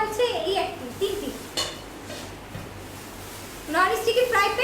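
A non-stick frying pan and wok with bakelite handles from KIAM cookware clink and clatter as they are handled and set aside, a few brief knocks under a person's ongoing talk.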